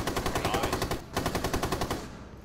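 A belt-fed machine gun in Rainbow Six Siege fires in two fast, loud, close bursts of evenly spaced rounds, with a short gap between them, and the second burst trails off at the end.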